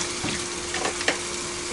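Fabuloso cleaning liquid being poured into a container, a continuous close splashing, fizzing stream with a steady hiss throughout.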